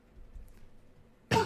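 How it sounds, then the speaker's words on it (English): A person coughs once, a short, harsh burst arriving near the end after a stretch of quiet low background, close and fairly loud. "I don't know why I'm coughing so much right now."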